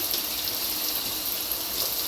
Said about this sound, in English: The hot water really does feel super nice.